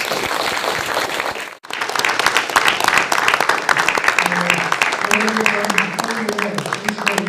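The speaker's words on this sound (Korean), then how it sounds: "다시 한번 큰 박수 부탁드립니다." Sustained audience applause after a political lecture at a forum in Gwanghwamun, Seoul, with dense, steady clapping from a large crowd after a brief pause, plus scattered voices mixed in.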